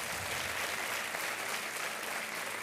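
Steady, dense applause from a studio audience on the Indian quiz show Kaun Banega Crorepati, sustained and even throughout with no voices over it.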